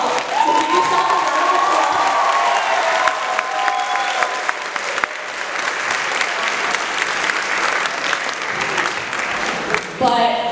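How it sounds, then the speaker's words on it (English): A youth performance audience breaks into loud applause mixed with cheers and high-pitched shouts, with a whistle-like call early on and voices rising through the clapping. "So give yourself a round of"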